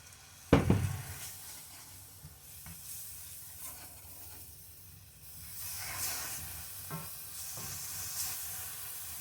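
Onions sizzling in olive oil in a skillet, a steady hiss of frying with a sharp clatter as they go into the pan and occasional stirring scrapes, fairly close and with no talk.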